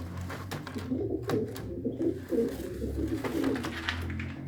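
Pigeons cooing in a loft, with soft, low repeated coos overlapping one another at close range alongside a few scattered higher chirps and faint background noise.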